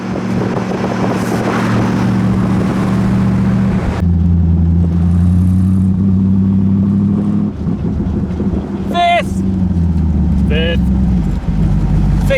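A 3.5 V8-powered Cobra replica accelerates hard through the gears, its loud engine note rising and dropping at each shift over wind buffeting, with a few brief voices in the background.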